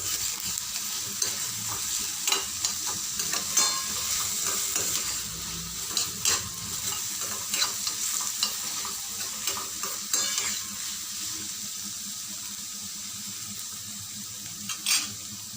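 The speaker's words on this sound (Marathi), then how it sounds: "आता इथे बऱ्यापैकी परतली गेली आहे भाजी" Ridge gourd sautéing in a pan, with a steady close sizzle and repeated spatula stirring scrapes and taps against the metal throughout, no voices.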